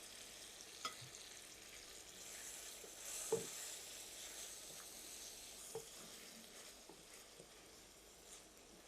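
Prawns dropped into a frying spice mix for a pumpkin and prawn curry, a soft, steady sizzle with a few spatula scrapes and clinks, low in level and with no voices.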